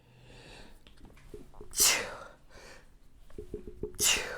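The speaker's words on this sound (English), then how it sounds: "I'm going to sneeze here any second." Two sharp sneezes burst out close by, each preceded by breathy intakes and gasps, with quiet rustling between them.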